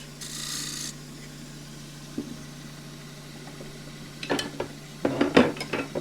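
A woodturning tool cuts a slightly dovetailed foot on a Tasmanian blackwood bowl spinning on a lathe, a faint steady hum with soft scraping that turns into several sharper, louder rasping bursts toward the end.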